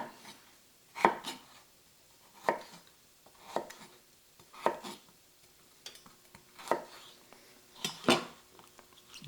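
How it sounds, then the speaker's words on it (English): A knife chopping green peppers on a cutting board, with sharp, close knocks coming in irregular pairs and singles about once a second against a quiet kitchen background, no talking. "I'll go ahead and cut this piece here up too"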